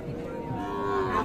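A cow at a village cattle market in Amtali, Barguna, sells native-breed dairy cows with calves. It gives a drawn-out moo that rises toward the end, close and fairly loud, over a murmur of market voices.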